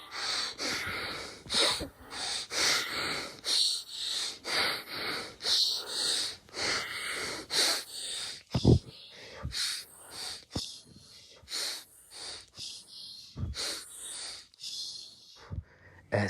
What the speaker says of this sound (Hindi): तो कैसे हम धीरे धीरे धीरे हाँफ रहे हैं